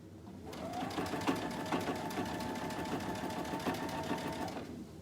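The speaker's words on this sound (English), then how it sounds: "get all the other fabric out of the way, and then stitch down the other side" A sewing machine stitches fabric, a steady fast mechanical whirring hum with rhythmic needle ticking running for several seconds before stopping, alone and close.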